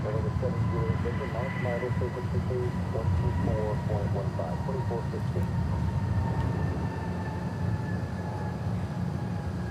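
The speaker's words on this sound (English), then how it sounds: "Letting us know that Atlas Air 747 is taxiing out." An Atlas Air Boeing 747 taxiing at DFW Airport gives off a steady, continuous engine rumble and whine with a faint high tone, distant and unbroken from start to finish.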